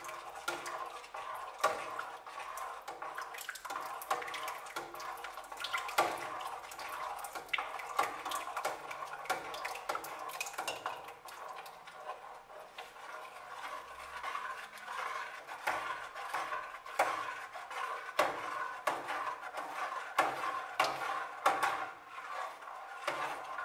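Potato soup being stirred in a pot with a fork, giving a continuous close run of small clinks, scrapes and wet sloshing at an even rhythm, with no speech.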